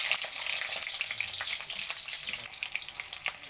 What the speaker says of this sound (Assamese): পিঁয়াজখিনি দি দিলোঁ